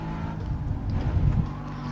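A Mercedes-AMG GT S accelerating with a low, steady engine roar that swells slightly toward the end, heard from nearby with no talk over it.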